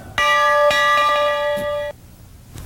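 A single loud, ringing locomotive bell tone sustains for about two seconds before cutting off, close and clear.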